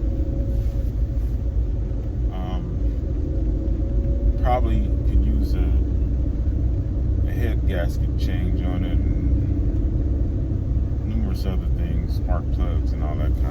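A car cruises down the road on a morning drive, giving a steady low engine and road rumble throughout with faint intermittent noises above it and no clear talking.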